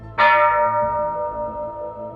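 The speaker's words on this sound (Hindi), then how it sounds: "गांव के मंदिर की घंटी बजने लगती है।" A village temple bell rings once with a sharp strike, then a long, loud, ringing tone fading slowly over a low hum.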